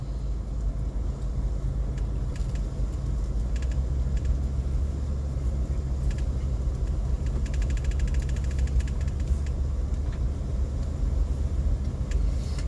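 A car drives along a road on a trip into town, a constant low engine and road rumble with faint ticking clicks, steady throughout with no talking.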